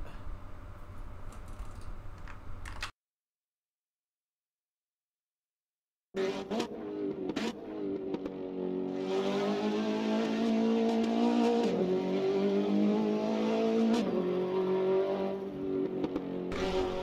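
A Praga R2 race car engine from Assetto Corsa laps the Highlands track, revving and shifting with a rising, buzzing tone, broken by a few seconds of silence before the engine roars back, mixed with keyboard clicks.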